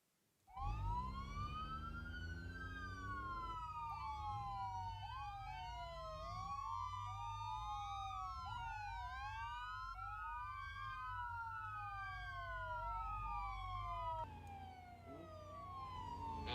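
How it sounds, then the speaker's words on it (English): Police car sirens wail in the BeamNG.drive video game, several overlapping rising-and-falling tones sweeping continuously over a steady low engine rumble, loud and close with no talking. "Activate your sirens, turn on your lights, start your engines, ladies and gentlemen"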